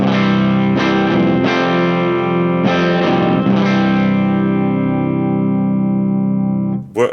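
A dense, harsh electric guitar drone in C standard tuning through a HangmanFX Atomic World Ender ring-mod fuzz pedal, a few picked attacks early on, then sustaining and decaying before abruptly cutting off.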